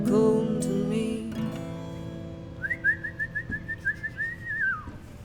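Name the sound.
whistling break in a song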